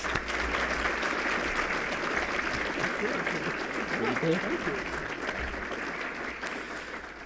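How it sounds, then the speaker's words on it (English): Audience applause fills an Akron Roundtable luncheon hall, a steady dense wash of clapping that holds evenly throughout at moderate loudness, with a faint murmur of voices beneath. "Give him a round of applause."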